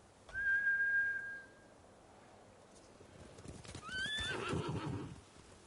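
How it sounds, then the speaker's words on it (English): A horse in the samurai-era game Ghost of Tsushima gives a clear whinny, then a second louder neigh with snorting and hoof sounds, set against a soft outdoor ambience without talk. "Horsey! Come here, Horsey!"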